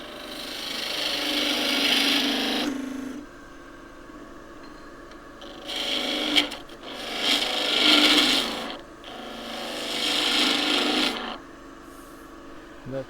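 A long-point gouge cutting a small twig pot spinning on a woodturning lathe, giving three loud, sustained rasping cuts of several seconds each, separated by quieter stretches of motor hum.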